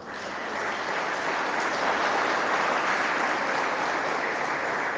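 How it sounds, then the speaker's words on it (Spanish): Steady applause from a church congregation during a Spanish-language Catholic sermon, a dense continuous wash of clapping that holds loud and even from start to finish with no voices over it. "Denle un aplauso a la madre."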